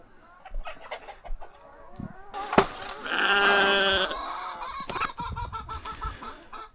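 Chickens cluck and a rooster lets out a drawn-out crow among other farm animal calls on a farm, with some rustling and a sharp knock nearby.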